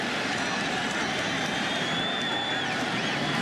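Steady roar of a stadium crowd at an NFL football game between the New York Giants and Dallas Cowboys, a dense, continuous wash of voices and cheering with no break.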